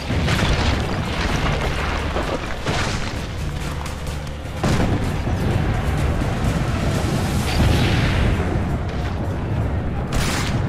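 Heavy booming cannon blasts and explosions from Assassin's Creed Brotherhood, loud and dense, repeated rumbling impacts layered over a constant battle din.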